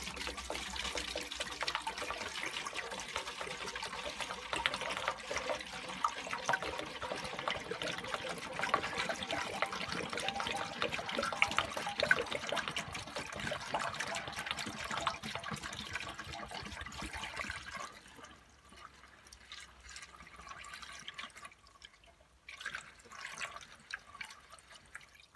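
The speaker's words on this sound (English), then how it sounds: "I'm going to drain this now" Acid solution drains steadily out of a rusty fuel tank, a continuous splashing trickle that runs for most of the stretch, then thins to a quieter dribble and scattered drips.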